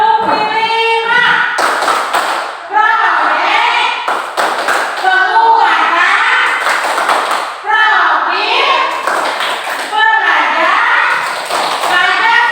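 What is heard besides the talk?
children doing the tepuk firman rhythmic clapping chant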